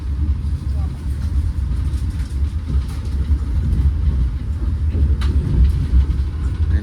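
Taksaka executive-class passenger train pulling into Tugu station in Yogyakarta, heard as a steady, fairly loud low rumble with rolling wheel noise and faint murmuring in the background throughout.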